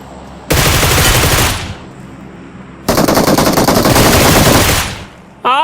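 Automatic gunfire from the mobile battle royale game PUBG Mobile, two long loud sustained bursts of rapid shots separated by a short pause, with game ambience underneath and no talking.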